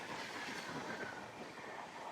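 Seshadri Express with LHB coaches rolls steadily into Anaparthi railway station, a continuous rumbling train roar with faint rhythmic wheel clatter, heard close from on board and without talk.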